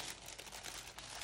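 Plastic packaging around a new iPad Pro bumper case crinkles and rustles steadily close up for a second or so, a soft, busy crackling with no voices.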